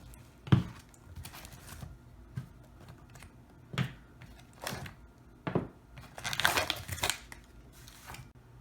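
Medical supplies are pulled out of an HSGI bleeder/blowout pouch by its pull tab, giving a series of close rustles, crinkles and scraping bursts of fabric and packaging, irregular and fairly quiet.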